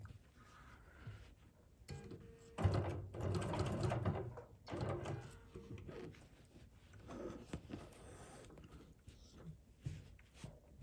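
A sewing machine runs straight quilting lines through a string quilt in several bursts of steady whirring, with quieter handling in between. It sounds fairly close but soft overall.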